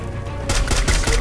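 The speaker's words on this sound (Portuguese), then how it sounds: "que tiro na cabeça lindo foi esse" Gunfire from a P40-type weapon in the battle game Free Fire, a short burst of loud sharp cracks starting partway through after a quieter stretch, close and punchy.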